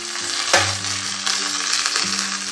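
Curry leaves and a chili are dropped into hot oil with mustard seeds for tempering peanut chutney. A sharp sizzling burst comes up close, then the crackling frying settles to a steady hiss with small pops.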